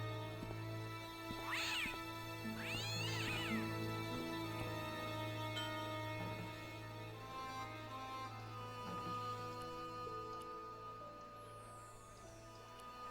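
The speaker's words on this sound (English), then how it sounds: "The cat was an ugly brute who looked like he owned the joint." A meowing cat in the Broken Sword: Shadow of the Templars adventure game gives a few drawn-out meows early on over a steady hum of background music and ambience.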